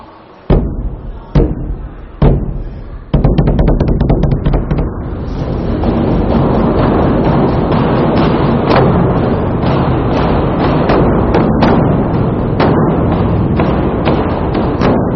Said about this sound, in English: Today, people still strike the drum